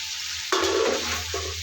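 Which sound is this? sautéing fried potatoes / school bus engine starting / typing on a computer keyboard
sautéing fried potatoes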